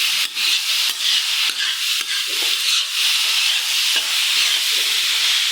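Meat mixed with garlic paste being stirred and fried in a pan for an iftar dish, giving a steady loud hiss and sizzle with occasional scraping stirs, no voices.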